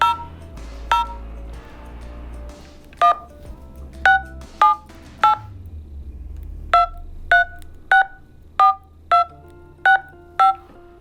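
Keypad tones from an IMLCORP Phoenix 100 satellite phone as a number is entered: about fifteen short, crisp beeps, the first few sparse and then a quick, fairly even run, close and clear over a faint low background rumble.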